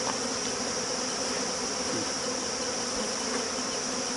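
Honey bees hum and buzz steadily around an autumn hive, a dense continuous drone at moderate level with no voices.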